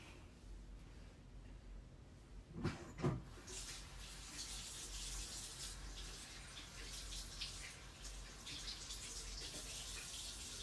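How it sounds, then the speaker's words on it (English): Tap water running steadily into a sink during handwashing, a continuous hiss with a couple of brief splashy bumps near the start, no talking. "It feels so good to wash your hands."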